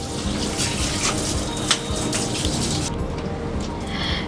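Shower water running over a pet during a bath, a loud steady hiss of spray and splashing on fur that shifts partway through as the stream moves.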